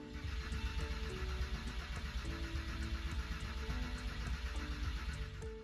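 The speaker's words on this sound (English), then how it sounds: "it is readily building oil pressure off the starter motor" Porsche 911 M96 flat-six cranking on its starter motor with the fuel pump relay pulled so it does not fire, a steady rhythmic churning drone with regular pulses, close and continuous.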